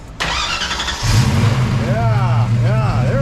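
A 34-year-old Ford Mustang Foxbody cranks and fires up, then settles into a strong, steady low running note up close, with a few throttle blips rising and falling near the end while people talk over it.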